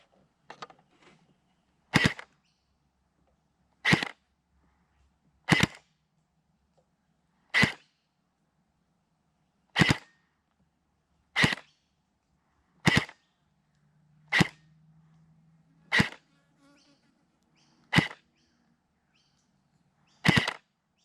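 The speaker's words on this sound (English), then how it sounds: "I'm having issues where it's double feeding, shooting 2 gels at once." Mac-10 gel blaster firing through a chronograph while double feeding, about a dozen sharp, crisp pops spaced roughly two seconds apart, close and alone, with a faint hum between a couple of shots.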